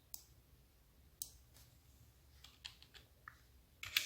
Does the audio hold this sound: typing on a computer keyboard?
yes